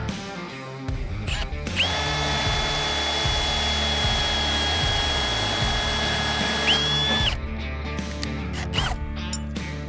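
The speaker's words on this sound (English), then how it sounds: "We gotta use a step drill bit and get through the metal a little bit more." A power drill fitted with a step drill bit bores through metal, a steady high whine with a sustained pitched tone that rises in at the start and holds for several seconds before cutting off, loud and close.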